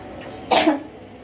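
A single short cough, close and fairly loud, against a quiet room background.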